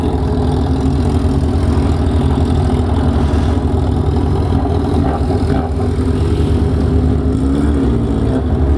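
A Yamaha XJ6 SP motorcycle fitted with an Atalla 4x1 exhaust idles loudly and close up, a steady deep rumble with slight rises in revs throughout.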